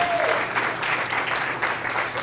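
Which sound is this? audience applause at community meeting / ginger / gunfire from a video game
audience applause at community meeting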